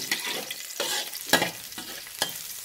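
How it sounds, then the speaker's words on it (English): Garlic cloves, skins still on, frying in a wok, with soft sizzling and a few scraping stirs of the spatula, close and steady, no voices. "We will just fry the garlic until fragrant."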